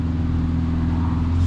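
Car engine with an RV6 longtube J-pipe exhaust, a loud, steady low droning rumble held for a brief moment as the throttle is pressed.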